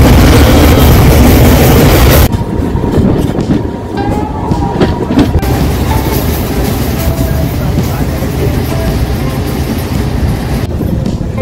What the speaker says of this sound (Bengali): এই হলো ট্রেনের ভেতরের অবস্থা বন্ধুরা